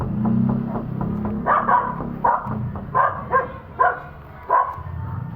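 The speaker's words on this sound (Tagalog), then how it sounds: "Mga aso nila oh, nakalabas oh" Several sharp dog barks ring out at irregular intervals over a low background murmur, moderately close.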